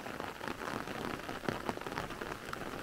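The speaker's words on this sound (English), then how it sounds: "it is raining again" Steady rain falls on outdoor surfaces during a late-season shower in a garden with chickens, a dense continuous patter with a few louder nearby drops and no voices.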